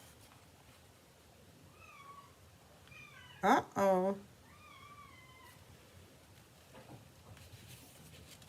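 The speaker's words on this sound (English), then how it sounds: "Kitties are making noise back there." Two short, loud cat meows close together, harmonic and rising, with a brief spoken exclamation and faint background noise around them.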